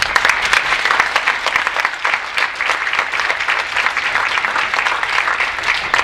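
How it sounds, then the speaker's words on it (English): An audience at a volunteer breakfast applauds the nominees with loud, continuous clapping, dense and close, sustained throughout. "Let's have a round of applause for all the nominees."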